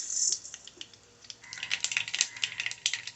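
Mustard seeds splutter in hot oil for Kerala mango pulissery, with rapid, sharp crackling pops bursting close up in dense clusters after a brief lull.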